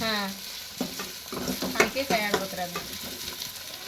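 Tomatoes fry in a pan for a home-cooked vegetable curry, a soft sizzle under scraping and stirring strokes from a spoon, with a few clinks, close and moderately loud, no speech.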